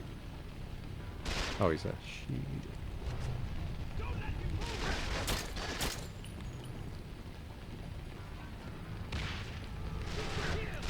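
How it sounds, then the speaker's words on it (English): Grenade blasts and gunfire in the PS2 game Quantum of Solace, Eco Hotel final mission: several loud broadband bursts that recur through the clip, with a player's brief voice over a busy combat soundscape. "they seem to be using grenades a lot in this level as well, which means you have to keep moving around"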